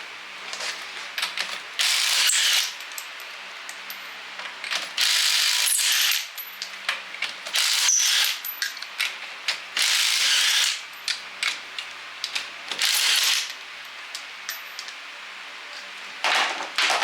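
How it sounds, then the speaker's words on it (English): A Snap-on ratchet turns in repeated quick runs of rapid clicking, close and crisp, with several bursts separated by short pauses and scattered tool clatter. "I brought my snap-on ratchet from home"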